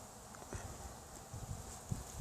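Honeybees buzz around their hive in spring as they carry in pollen, a faint, continuous hum with soft rustling and small bumps close by.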